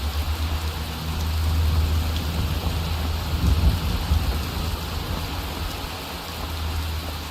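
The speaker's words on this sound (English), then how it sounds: "See if I can get out of this bloody rain." Rain falls in the video game Skyrim as a steady, even hiss with a low rumble beneath. It is continuous and moderately loud, swelling slightly midway, with no voices over it.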